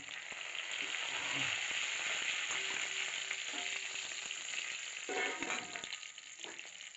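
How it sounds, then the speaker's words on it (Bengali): Cumin seeds, dried chili and bay leaf spitting in hot oil in a kadai, a continuous crisp sizzle with scattered pops and a few utensil taps, close but moderate in level. "সাদা জিরা ফোড়ন দিয়ে দিলাম। শুকনো লঙ্কা তেজপাতা দিয়ে দিলাম।"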